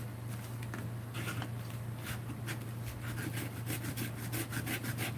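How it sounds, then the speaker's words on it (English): A tool scrapes the waxy surface of a glued art journal page, giving repeated close, faint rasping strokes over a low steady hum, with no talk. "Let's scrape it."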